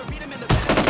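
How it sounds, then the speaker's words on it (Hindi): Gunfire from an AKM rifle in PUBG Mobile Lite: a short burst of loud, sharp shots arriving in quick succession after a brief quieter lead-in. "मैं थोड़ा फायर करता हूँ"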